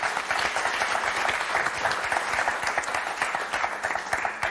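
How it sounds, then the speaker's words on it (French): A studio audience on the Motus game show breaks into brisk, sustained applause, dense rapid clapping filling the room evenly and fairly loud throughout, with no talking over it. "mais on vous applaudit très fort, Hélène."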